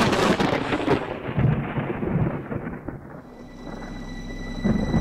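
Thunderstorm in a horror video game at night: a long, loud rolling rumble of thunder over steady rain that fades slightly, then another low thunder swell near the end, with no talk.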